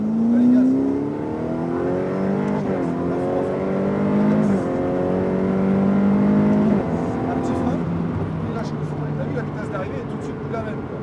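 Ferrari F8 accelerating hard on the Circuit du Laquais, engine revving up through the gears with sharp shifts, loud and close from inside the car, with a voice talking over it.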